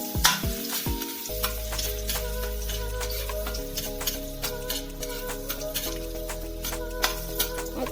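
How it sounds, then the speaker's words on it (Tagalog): Garlic sizzles in hot oil in a pan, a steady, close frying hiss with stirring clinks and scrapes throughout. A low hum sits underneath. "Magpainit tayo ng mantika sa kawali at ilagay natin ang bawang"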